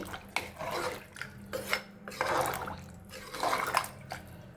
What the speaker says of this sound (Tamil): இப்போது தண்ணியை சேர்த்துடலாம்